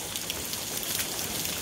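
Hail pelts down during a storm in a steady, dense hiss of small hard impacts, continuous and fairly close, with no voices.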